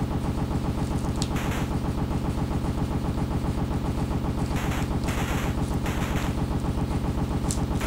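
Rapid, continuous machine-gun fire in The Punisher NES game, a relentless, loud, evenly pulsing stream of retro gunshots running throughout without pause, with a few brief higher blips over it.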